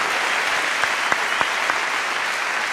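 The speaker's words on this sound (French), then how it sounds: "on va prendre le temps d'applaudir" An audience applauds loudly and continuously at a French talk on paid holidays and the 1936 strikers, a dense, even wash of clapping throughout with a few sharper claps standing out.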